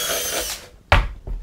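A power drill bores a hole with a 7/32 drill bit: a short whirring burst that winds down, then a sharp loud knock as it breaks through, and a softer thump after.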